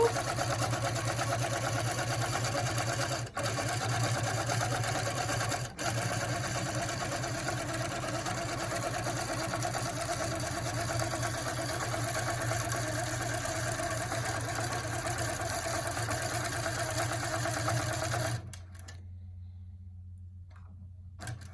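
A longarm quilting machine guided by Pro-Stitcher runs steadily, a continuous mechanical hum with a fine rapid stitching tick, two brief dropouts, then it slows into a locking stitch and stops, leaving near silence.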